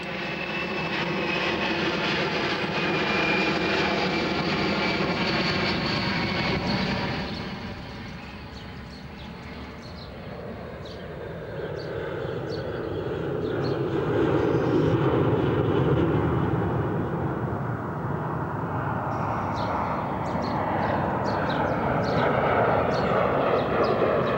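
A loud, steady roar of an early aircraft engine near an Essex airport drones for the whole stretch, dipping briefly in the middle before swelling again, with no voices.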